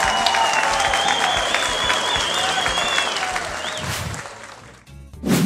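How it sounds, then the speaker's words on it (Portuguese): A studio audience on a variety talk show breaks into sustained applause for a departing guest, dense clapping and some cheering that fills the room, with background music tones running underneath before it swells again at the end. "Uma salva de palmas para ele."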